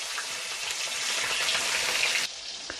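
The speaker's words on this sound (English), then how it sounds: "now that this has been frying for 15 minutes" Fish frying in a pan of hot oil gives a steady, dense sizzle and crackle that stays loud and close throughout, with a slight drop near the end and no talking.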